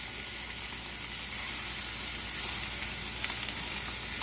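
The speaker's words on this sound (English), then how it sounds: "we're getting the sear all the way around" Mozzarella-stuffed meatballs sear in a hot pan, giving a steady, close sizzle and hiss that runs unbroken throughout, with faint crackles on top and no talking.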